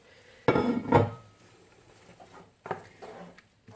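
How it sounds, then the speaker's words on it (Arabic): Squeezed courgette drops into a pan of tomato and garlic, making a close clatter and sizzle with two bursts of scraping and clinking, then a quieter third one. "هنا راح نحط الكورجيت نتاعي بعد ما عصرتها مليح مليح"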